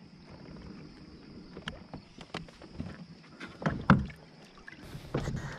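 A kayak paddled on the Connecticut River in New Hampshire, with soft irregular paddle strokes and water splashes, a couple of louder dips near the end, fairly close and quiet under light wind.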